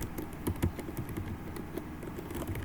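Fingers tap out keystrokes on a computer keyboard while a Linux command is entered, a quick close run of light clicks in an uneven rhythm over a low background hum.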